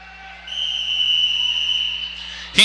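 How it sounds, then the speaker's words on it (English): An official's whistle at a swim meet state championship gives a single long, steady blast that rings out clearly over a quiet poolside background and ends with a brief clatter. "There's our official's whistle."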